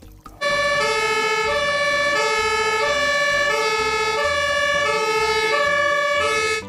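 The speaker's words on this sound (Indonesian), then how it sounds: "di sini ada truk pemadam kebakaran" Toy fire truck siren sounding loud and steady, a repeating electronic two-tone wail with a bright buzzy edge that runs almost continuously, close to the microphone, with no talk over it.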